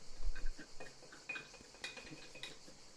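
A wooden spoon presses fermented cabbage into a glass jar with soft taps and a few clear clinks against the glass, quiet and close, spaced out over a few seconds.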